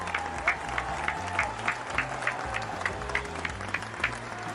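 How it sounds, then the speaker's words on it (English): Applause for the final two contestants on a game show stage, a rhythmic wash of clapping with regular beat-like accents and crowd murmur beneath. "Give a round of applause to our final 2 contestants."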